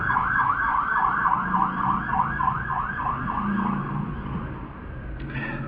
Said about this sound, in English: I'm going to wait a little bit until those sirens pass.